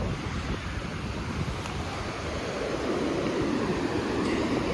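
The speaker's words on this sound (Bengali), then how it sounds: "এই যে চলে আসলাম সাগরের পাড়ে" Sea surf rolls onto the beach at Kuakata, Bangladesh, a steady, loud wash of breaking waves mixed with gusty wind buffeting the microphone, with no voices.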